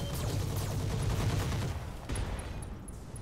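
Heavy weapons fire from battling mechs in the video game Roguetech, a dense continuous barrage of booms and bursts at close range, easing slightly midway before further shots and high pinging impacts.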